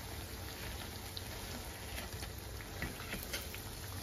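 Rice flour pitha fry in a pan over low heat, giving a steady close patter of fine crackles with occasional sharper pops, continuous and moderately loud.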